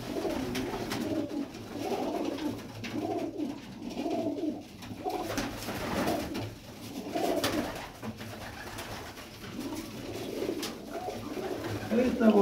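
Pigeons coo repeatedly, close by, in a steady rhythm of soft, throaty rolling calls that continue throughout.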